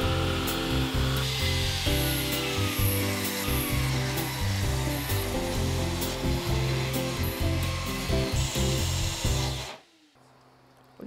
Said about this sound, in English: Step 4, cut all the wood into 4-centimeter strips.